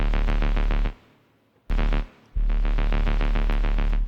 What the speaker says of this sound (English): The bass was made in Albino,